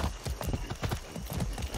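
Horse hooves clip-clop in a steady trotting rhythm in the video game Far Cry 6, close and prominent, with repeated hoof strikes and no clear talking.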